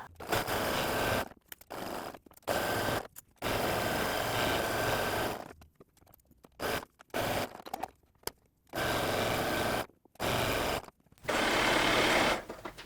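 A sewing machine stitches a satin-lined beanie in bursts of steady whirring, several runs of a second or two broken by short pauses, close and clear with no talking.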